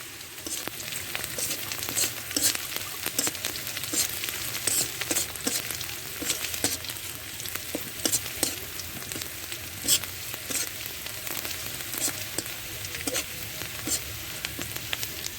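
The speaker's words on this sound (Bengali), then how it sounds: "রসুনটা ভালো করে ভেজে নিতে হবে, না কাঁচা কাঁচা গন্ধ পাবে। হালকা অল্প আঁচে ভাজতে হবে।" Garlic fries on low heat in a pan, a soft continuous sizzle broken by scattered crackles and pops and the occasional scrape of stirring, heard alone and fairly quiet.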